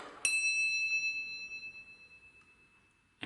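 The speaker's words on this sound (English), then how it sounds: "to make an actuator that will chime this bell" A butler bell pulled from the left side gives one clear, bright chime that rings on and slowly fades for about three seconds, with another sound starting right at the end.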